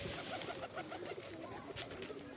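Newly bought pigeons from a market, one with clipped wings, coo softly and repeatedly nearby in a quiet, steady murmur with no talking.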